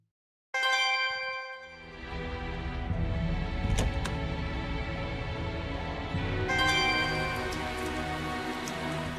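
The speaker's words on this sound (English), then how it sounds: "Oh, it's still raining." Steady rain in the video game Tales of Zestiria patters continuously on a surface after a sudden start, with a few brief metallic ticks poking through; no one speaks.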